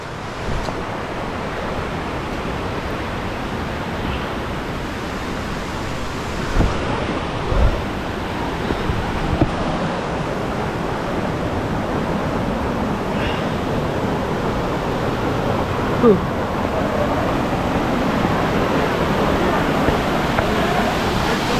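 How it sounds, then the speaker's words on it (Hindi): Steady roar of rushing water from the Botalda waterfall, a continuous broad wash that holds at an even level throughout, with a few faint knocks and brief sounds on top and no talking. "यहाँ पर भी एक वाटरफॉल है, ऊपर में भी एक वाटरफॉल है"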